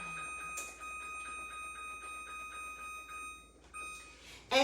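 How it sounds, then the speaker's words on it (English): A kitchen timer gives a long run of steady, evenly spaced electronic beeps close by, with a brief pause near the end and a louder knock at the finish. "And I'm gonna set my timer."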